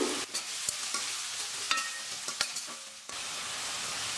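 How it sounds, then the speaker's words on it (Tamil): Chopped onions and curry leaves sizzling and frying in a pan for upma, with a steady hiss and occasional sharp clicks and scrapes of a spoon stirring, close up. "ஒரு பெரிய வெங்காயம் பொடியாக நறுக்கியது கொஞ்சம் கருவேப்பிலை இதையெல்லாம் சேர்த்து நல்லா வதக்கணும்"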